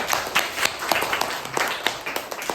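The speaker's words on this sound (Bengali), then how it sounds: "এটা জোরে হাততালি হোক সবার জন্য।" Children in a classroom clap their hands together in a quick, fairly even run of sharp claps, close and moderately loud, lasting a couple of seconds.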